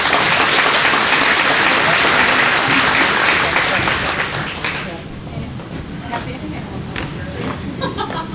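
Gala audience at a chamber of commerce awards night applauds the nominees, dense steady clapping that fills the room, then thins and softens with a few scattered claps and crowd murmur.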